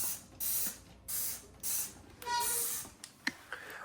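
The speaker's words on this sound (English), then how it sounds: "spray some at the bottom here" Dawn dish soap liquid sprayed under a washer comes in several short hissing bursts from a spray bottle, close and fairly quiet, separated by brief pauses and small handling clicks.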